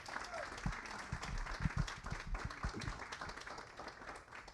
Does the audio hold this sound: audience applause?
yes